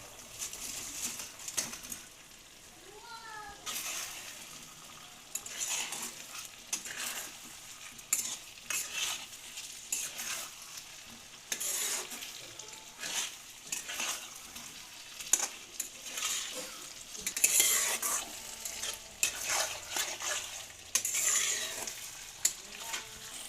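Cabbage manchurian balls fry in a pan, a continuous sizzle broken by repeated scraping and clattering of stirring and utensil knocks, close and fairly busy throughout without speech.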